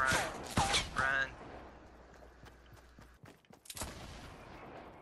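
Sniper shots in a Fortnite Battle Royale match crack out as a few sharp reports, loudest at the start and followed by scattered quieter hits, with players talking over them.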